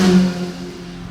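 Passing road traffic outside a house, a car engine sweeping by close and fairly loud with a brief rising rev, then settling into a steady lower rumble.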